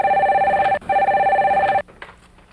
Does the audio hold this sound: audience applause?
no